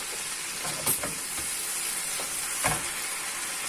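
Vegetables, including eggplant, zucchini and peppers, fry in hot oil with a steady close sizzle and hiss, broken by a couple of sharper crackles and pops, with no talking.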